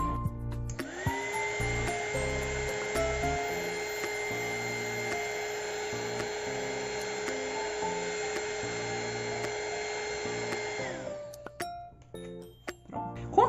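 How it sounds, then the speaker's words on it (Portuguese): A heat gun blows steadily on a resin bookmark, a constant whirring hiss with a whine running for about ten seconds before cutting off, surrounded by faint clicks and handling noises. "Eu liguei o soprador térmico, só que eu vou fazer bem de longe."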